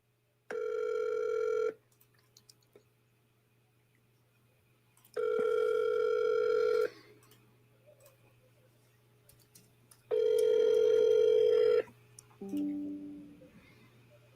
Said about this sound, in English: All right, let's get that triple dial in for Kurt, man